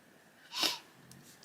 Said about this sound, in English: excuse me sniffing away